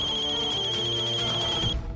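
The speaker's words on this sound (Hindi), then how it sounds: "बार बार फोन को बजता देख" A mobile phone ringtone rings with a steady electronic tone repeating in quick pulses, close and clear, then cuts off near the end, with no talking.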